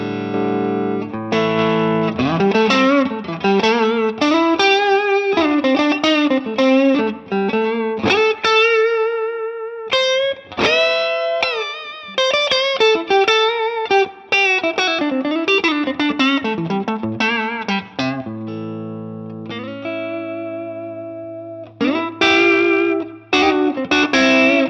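Electric guitar played through a Two-Rock Studio Signature tube amp with the bright switch off and mid toggle on, bright and ringing with chords and single-note runs, lightly distorted, continuous and loud.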